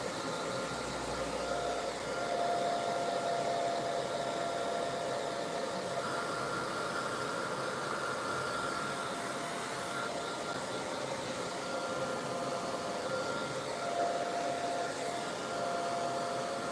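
A hair dryer runs steadily on its high fan and hot setting, a loud continuous whoosh with a faint whine that holds without a break for the whole stretch, with no voices over it.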